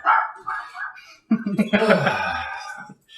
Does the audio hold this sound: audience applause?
no